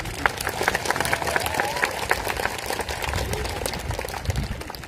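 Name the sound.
crowd applause at memorial ceremony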